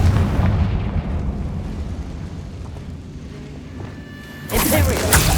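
A Confringo blasting spell goes off in Hogwarts Legacy: a sudden loud, bright explosive burst near the end, after a rumbling stretch of combat ambience. Nobody speaks.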